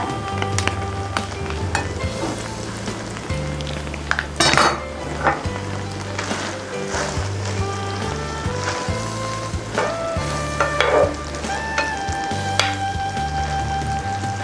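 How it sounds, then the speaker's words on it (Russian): A marbled beef steak frying in a pan with oil, a loud continuous sizzle and hiss over a low hum, with occasional clinks of utensils against the pan and no talking. "Теперь пошел сюда стейк. Можно еще маслица добавить."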